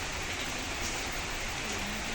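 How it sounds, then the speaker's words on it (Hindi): Heavy rain falls during sunshine, a steady, dense, even hiss of downpour filling the air without pause or talking. "धूप बारिश लगी है।"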